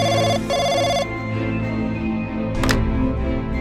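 A cartoon telephone's electronic ring sounds loud and close in one final burst, then cuts off, leaving a quiet background with a brief knock-like clatter.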